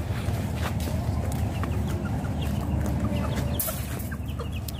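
Pet chickens clucking continuously in a pen outdoors, a dense mix of close clucks and chatter over a steady rumbling background, with one sharper call near the end.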